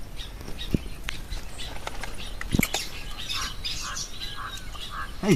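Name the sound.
peacock calling in the village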